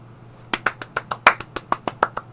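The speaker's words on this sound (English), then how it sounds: "Clap!" About a dozen sharp hand claps ring out close and loud in an uneven, quickening rhythm, each crisp smack standing alone against a quiet background, following a SpaceX Transporter-8 payload deployment.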